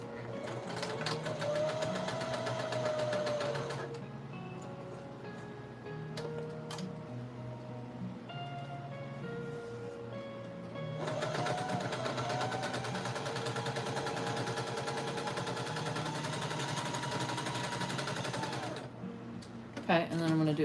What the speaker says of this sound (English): now what I'm going to do is just do a straight stitch